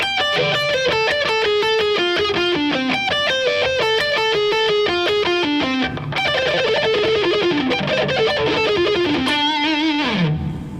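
Distorted electric guitar plays a slow run of repeated notes stepping downward, pauses briefly, then continues with sustained, buzzy licks.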